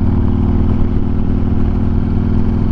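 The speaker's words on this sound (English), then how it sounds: "Definitely like the exhaust notes on the Bassani." Harley-Davidson Screamin' Eagle 120R Street Glide Special with a Bassani exhaust, a steady, loud, deep rumbling exhaust note held close and continuous throughout, with no voices.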